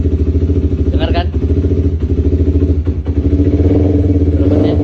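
A Honda CBR motorcycle engine with a faulty idle air control valve runs loudly and steadily up close, its rough idle rising in brief revs, with a voice talking over it.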